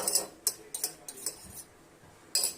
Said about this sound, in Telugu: చూసారా స్పూన్ తీసుకొని కలపాలన్నమాట.